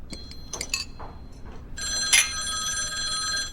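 A telephone rings with a bright, sustained electronic bell tone that starts partway through, after a few light clinks and taps at the beginning.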